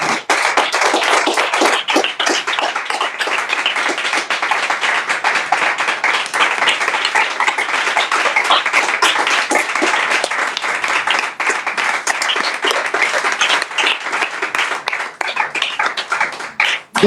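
A church congregation applauding during a French-language service, loud, sustained clapping from many hands, dense and continuous throughout before tapering slightly at the end.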